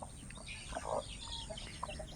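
A newly laid hen clucks in soft, scattered bursts around a coop, fairly close but quiet, against a low background hum and faint bird chirps.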